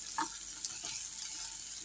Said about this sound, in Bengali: আলু আর কুমড়ো একদম ভাজা ভাজা হয়ে গেছে